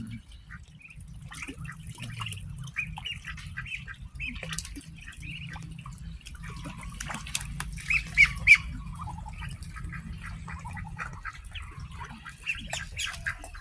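Farm ducks give scattered raspy quacks and squawks while being fed, some close and some further off, over a low background rumble and wet dabbling sounds.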